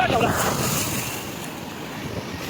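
Ocean waves wash onto the beach at Malvan on the Konkan coast, a brief rushing surge of surf with wind noise, loud at first and then easing into a steady hiss.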